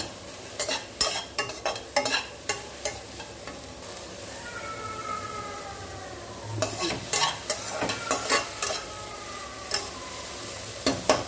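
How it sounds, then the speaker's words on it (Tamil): Garlic being dry-roasted without oil in a pan, with repeated spatula scrapes and clatters in irregular bursts over a faint sizzle, pausing in the middle while a thin whistling tone sounds in the background. "பூண்டை வந்து கொஞ்சம் வதக்கிட்டு இருக்கேன் இந்த பக்கம் வந்து எண்ணெய் விடாமல் தான் வறுத்துட்டு இருக்கேன்"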